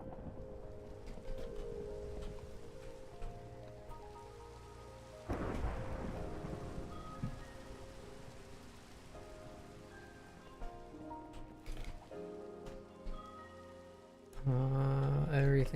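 A video game thunderstorm delivers steady rain with rolling thunder and a sharp crack of lightning partway through, under faint game music tones, ending in a louder burst of sound.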